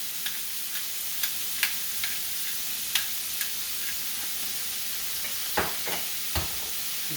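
Oil and pork stirred in a frying pan, a steady sizzle with scattered light scrapes and clicks of the utensil against the pan, close and fairly loud.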